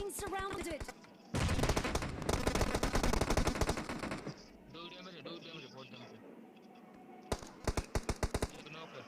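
A DP rifle fires in PUBG Mobile in rapid bursts of loud automatic shots, first a long volley, then a quieter stretch, then a few more quick bursts, with someone talking throughout.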